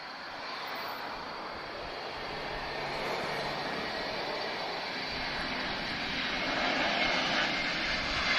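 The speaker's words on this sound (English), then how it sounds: "We've got an TAP A321 from Geneva, just about to touch down." A TAP Airbus A321 arriving from Geneva touches down at Lisbon Airport, its engines a broad, steady roar that swells slightly as the jet nears, heard from outside at a moderate distance.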